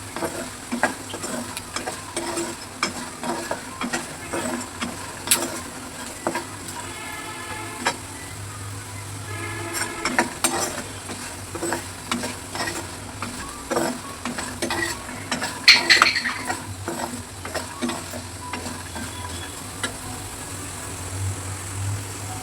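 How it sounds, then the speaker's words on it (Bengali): Potatoes fry in a pan with a continuous low sizzle, broken by frequent scraping and stirring knocks from a utensil, close by and moderately loud with no voices. "এই যে আলুটা আমার লাল লাল করে ভাজা হয়ে গেছে"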